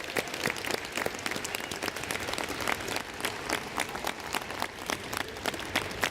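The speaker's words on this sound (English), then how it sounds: "applause." An audience at a university convocation ceremony applauds, a dense, sustained round of clapping from many hands at a moderate distance, holding steady from start to finish.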